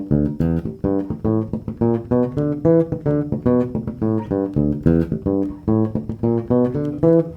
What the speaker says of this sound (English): a line using that kind of wacka wacka funk sound, coming down an E a minor pentatonic scale and coming back up an E blues scale